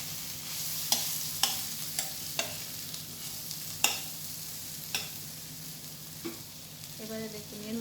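Kudli with coconut fries in a pan, a quiet steady sizzle punctuated by sharp clicks of a spatula striking the pan at irregular intervals, ending with a brief rattling scrape.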